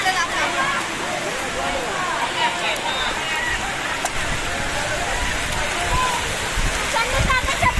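A waterfall at Lonavala running with little water, a steady broadband rush heard up close, with voices in a crowd talking over it.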